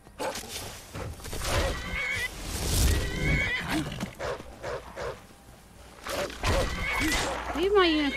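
A horse in the video game Skyrim neighs and whinnies several times with hoof clatter. The sounds are mixed with other in-game creature noises and frequent player talk over the top.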